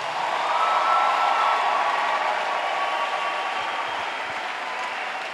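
A congregation at a church service applauds in a dense, sustained wash of clapping that holds steady for several seconds, with no voices standing out.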